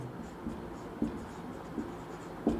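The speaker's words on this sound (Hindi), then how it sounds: "अब यहाँ पे हम लिखते हैं फर्स्ट टर्म" Chalk or marker strokes on a board during a Class 10 arithmetic progression lesson, a few soft taps and scrapes spaced across a steady room hum, with no talking.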